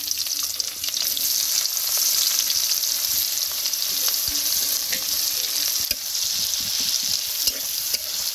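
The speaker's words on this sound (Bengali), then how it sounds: "এখন আমি এই যে কেটে রাখা পেঁয়াজগুলো হালকা নরম করে বেরেস্তা মতো করে নেব" Sliced onions fry in hot oil in a village kitchen, giving a continuous close, bright sizzle with occasional stirring clicks and no talking.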